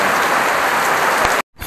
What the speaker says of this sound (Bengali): টিপ টিপ টিপ টিপ পড়তেছে, মানে ভালোই পড়তেছে এই দেখো